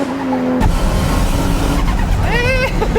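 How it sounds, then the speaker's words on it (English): A tuned 550-horsepower JDM car, the Toge Max, is taken at full throttle on a racing road. Its engine roars loud and close throughout, with rising revs and a hint of tire squeal. "Whoa, Tsuchiya is going full throttle right from the start"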